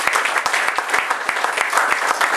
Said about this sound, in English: they deserve another big round of applause